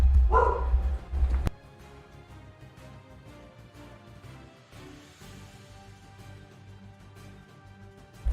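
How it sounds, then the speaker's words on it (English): A single loud dog bark sounds near the start, followed by a long quiet stretch with faint background noise. "Sorry, my dog was barking."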